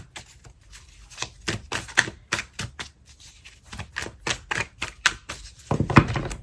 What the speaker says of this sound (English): All right, let's get at the shuffle here.